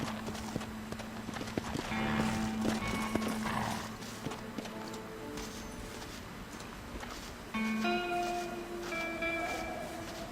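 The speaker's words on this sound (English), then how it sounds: "Where's my horse at? I can hear him." In the video game Red Dead Redemption, horse hooves clop steadily along, and a horse neighs and whinnies a couple of times over a busy background of ambient sounds.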